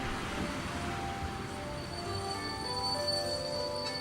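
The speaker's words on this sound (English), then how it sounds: "Okay, there's a train." Train ambience at the start of the FoxTail video game, a steady rumbling rail drone with faint high squealing tones, continuous and even throughout, with no talking.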